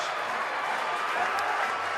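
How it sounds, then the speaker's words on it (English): Crowd noise at a rugby league match between Featherstone Rovers and Bradford Bulls, a steady broad roar of cheering and applause as fans stream onto the pitch, sustained and fairly distant. "The crowd are coming on the pitch."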